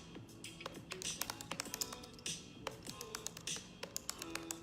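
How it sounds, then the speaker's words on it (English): Rapid clicking of a computer keyboard being typed on, close and fairly quiet, with irregular bursts of keystrokes and brief pauses. "Just typing up a thing and then we're going to get started."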